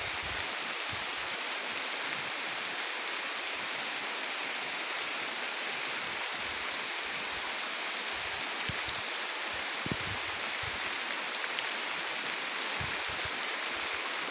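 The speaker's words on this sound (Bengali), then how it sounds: "বৃষ্টির ভিজতে ভালোই লাগে, এই জন্য একটু ভিজতেছি।" Rain falls steadily outdoors in a Bangladeshi village, a dense, even hiss of drops on the ground and leaves that holds constant without pause.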